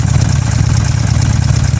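A Buell Ulysses XB12X motorcycle with a Drummer exhaust idles up close, loud and deep, with an uneven, throbbing lope that holds steady throughout.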